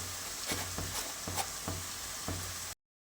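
Chopped onion sizzles steadily in a hot pan while it is sautéed for dum aloo, with a few soft, evenly spaced knocks from stirring. It is close and continuous, with no voices, then it cuts off abruptly.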